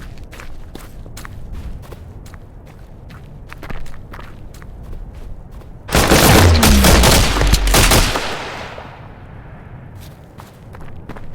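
A sudden, loud burst of rapid gunfire in the video game Insurgency Sandstorm lasts about two seconds and then fades, with in-game footsteps crunching steadily before and after.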